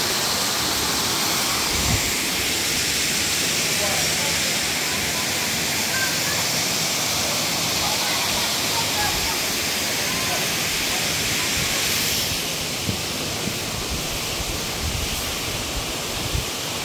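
Steady broadband rush of a waterfall on a spring hiking trail, loud and continuous throughout with faint wind, no clear talk over it.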